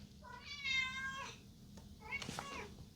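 A pet cat named Emma meows twice close by: a long, drawn-out call followed after a pause by a shorter one, with a faint low hum beneath.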